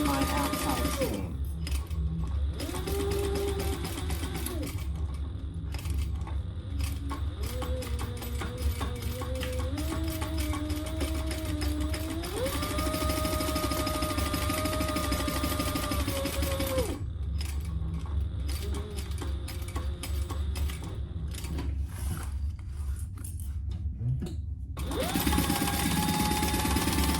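Sewing machine stitching the lining seams of a laptop bag in several bursts of rapid, steady whirring, broken by brief pauses with faint background talk.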